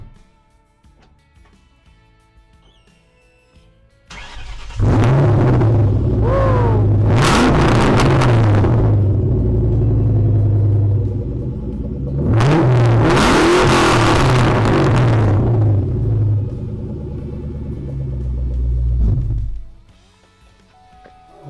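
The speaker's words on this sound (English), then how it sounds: "we might as well get 3 cold starts" A New Edge Ford Mustang Cobra on stock headers fires up from cold after a quiet pause, then settles into a loud rumbling idle broken by two sharp revving bursts before shutting off.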